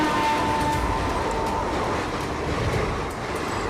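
A long goods train rolls past on a railway track with a loud, steady rumble, rattling wagons and faint wheel squeal, continuous throughout.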